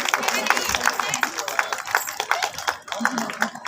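Audience applause welcoming the chief guest at a Holi gathering: a continuous patter of hand claps, fairly close and steady, with a few sharper claps standing out.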